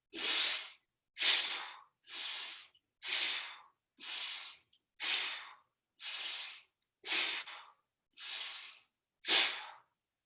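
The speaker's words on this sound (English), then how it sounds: "We'll do our 5 deep, vigorous breaths" Ten deep, forceful breaths in a steady rhythm, each a breathy rush lasting under a second with short pauses between, close and fairly loud, taken seated during a chair aerobics routine.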